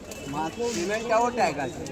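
Pigeons coo at a busy outdoor pigeon market in Kolkata, their low rolling calls close and fairly loud, overlapping under a steady din of crowd voices.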